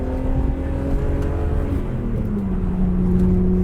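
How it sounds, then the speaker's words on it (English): A BMW E36 M3 GT's exhaust drones loudly and steadily from inside the car, a continuous low rumble whose pitch climbs gently near the end as the engine pulls, with no talk over it. "Love the exhaust sound."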